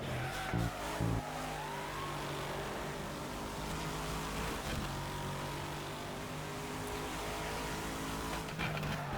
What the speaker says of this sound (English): Throwing some extra e-brake there to keep from hitting that sign.